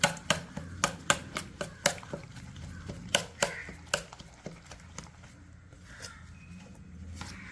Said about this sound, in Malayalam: ഇനിയും നന്നായിട്ട് മിക്സ് ചെയ്യാം